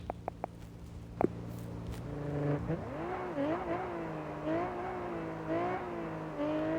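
A car in the driving game Car Parking Multiplayer accelerates hard toward 100, its engine note climbing and dropping through gear changes in a steady rising whine, close and loud, with no talking.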